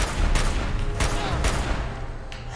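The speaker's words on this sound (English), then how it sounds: "I hear a turret." Turret gunfire from the video game Fallout 4, several sharp bursts of shots spaced about half a second apart, loud and close against a rumbling game backdrop.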